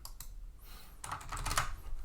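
Rapid typing of a firewall-cmd command on a computer keyboard, a dense run of close key clicks with a few louder strokes, steady throughout with no talking.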